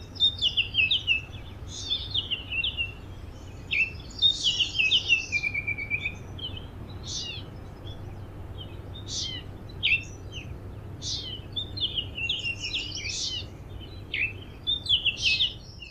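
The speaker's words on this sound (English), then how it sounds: "The musical song is a series of loud, clear flute-like whistles" A Baltimore Oriole singing outdoors, a series of clear, flute-like whistled phrases repeated every second or so over a faint steady background hum.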